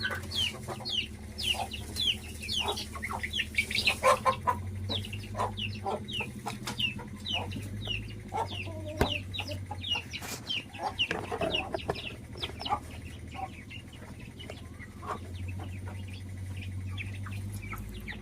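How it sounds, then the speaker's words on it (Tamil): Chickens cluck and chicks peep steadily around a farm coop, a busy mix of close clucks and high chirps that continues throughout with low background rumble. "இந்த குஞ்சுங்க தான் பாவம், ரொம்ப சிரமப்படும்."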